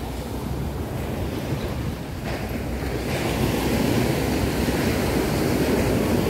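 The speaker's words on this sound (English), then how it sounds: "really big waves" Big ocean surf rolls and breaks continuously on Nha Trang beach in Vietnam, a steady loud wash of waves with wind noise across the microphone, growing slightly stronger partway through, no voices.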